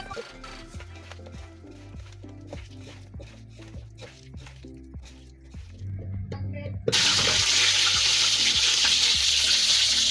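Chicken frying in hot oil: steady loud sizzling and crackling fill the second half, after a stretch of kitchen clatter and tapping.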